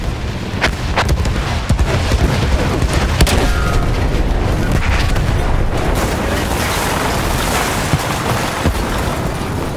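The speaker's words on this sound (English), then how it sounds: "Artillery!" Artillery shells and explosions boom repeatedly in Battlefield 1 on PS5, a dense barrage of heavy blasts and gunfire that stays loud and continuous throughout with no talk.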